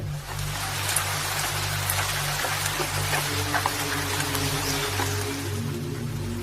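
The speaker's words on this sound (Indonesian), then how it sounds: "Kami makan ditemani hujan yang mulai mengguyur desa." Rain pours steadily over a village, a dense hiss of drops on surfaces with a low droning hum running beneath it.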